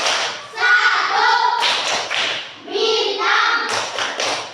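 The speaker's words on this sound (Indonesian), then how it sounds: "Kita tepuk simbol Pancasila." Rhythmic group clapping of the Indonesian Pancasila symbols clap chant led by a teacher, sharp clap bursts alternating with chanted voices in a close, lively indoor setting.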